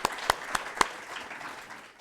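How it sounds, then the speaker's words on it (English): A few sharp, separate hand claps ring out close by at an education launch event, four quick claps spaced about a quarter second apart, then fading into a soft room murmur. "can we just have another round of applause for Claire and the work that she has put into this?"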